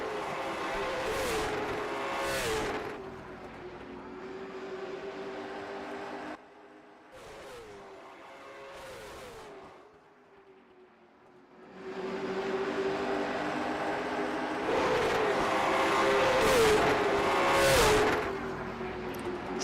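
Race cars battle nose to tail at South Boston Speedway, engines howling and revving through repeated passes with rising and falling pitch, dropping briefly quieter before several cars roar back close by.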